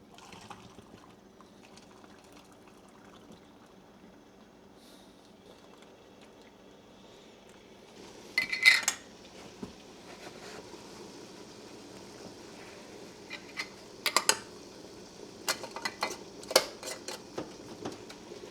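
Liquid is poured into glass canning jars for dill pickles, with faint trickling and splashing over a quiet kitchen background, then a few sharp clinks of glass and metal as jars are handled.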